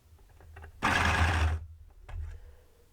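Electric pencil sharpener grinding a white Polychromos colored pencil, one loud burst of about a second of steady whirring rising suddenly out of quiet room noise and stopping abruptly.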